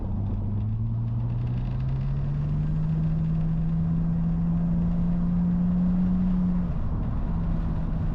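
A boosted Nissan Skyline R34 sedan engine pulls hard in third gear, a steady rising drone climbing in pitch for several seconds before easing off, heard from inside the car with constant road rumble.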